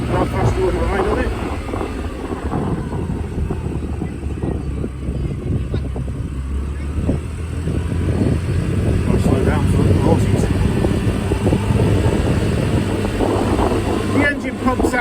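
Honda SCV100 Lead air-cooled four-stroke scooter engine droning steadily while riding at flat-out speed, buried under heavy wind rush with someone talking over it.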